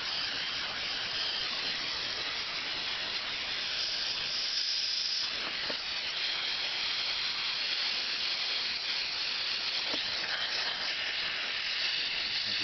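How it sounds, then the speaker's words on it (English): A cheap handheld steam cleaner blasts old oil out of a Singer 127 or 99 sewing machine, making a loud, steady hiss that runs unbroken from start to end. "Steam cleaner is about 15 quid,"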